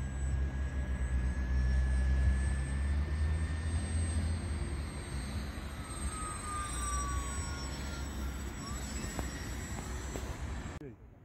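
A Volantex Ranger G2 RC airplane flies overhead at night, its electric propeller whine steady and moderately distant, shifting pitch as it passes, while people talk nearby.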